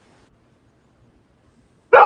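A single short, loud bark from a dog nearby, following a near-silent stretch.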